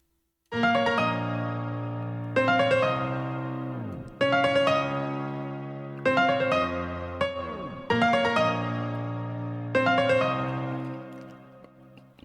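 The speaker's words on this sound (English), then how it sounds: "it is tape stop every 2 bars" A synthesized beat with a tape-stop effect every two bars repeats in bursts; each phrase sounds loud and sustained, then its pitch sags and winds down before the next starts, all without voices.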